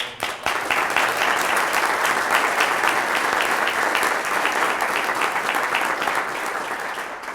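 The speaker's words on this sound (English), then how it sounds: "let me ask you to join me in a round of applause for John." A symposium audience gives a full, steady round of applause, loud and dense from near the start, holding for about seven seconds and easing slightly at the end, with no speech over it.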